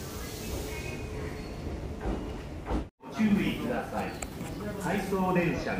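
An out-of-service train pulls away from a Japanese station platform, rumbling and clattering continuously with a brief gap in the middle, while platform announcements play over it.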